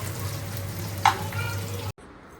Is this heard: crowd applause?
no